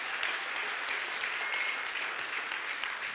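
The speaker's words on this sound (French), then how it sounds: "je pense qu'on peut applaudir encore une fois tous ces baptisés" An audience applauds a group of newly baptized people, a steady dense clapping that holds evenly throughout without a break and with no voices standing out.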